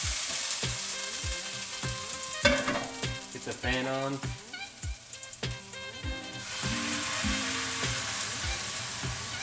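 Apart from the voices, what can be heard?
whole peeled canned tomatoes sizzling in a pan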